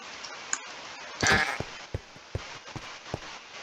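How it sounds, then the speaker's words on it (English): Bleats from a Minecraft goat in the video game come as one short, loud cry followed by several brief, fainter calls spaced irregularly across a quiet background. "Do only screaming goats ram you?"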